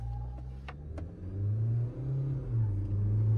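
A Mahindra Scorpio N with a 2.2 diesel and a Toyota Innova Crysta with a 2.7 petrol, both automatics, accelerate side by side in a drag race, heard from inside a cabin as a rising engine drone and rumble with faint clicks.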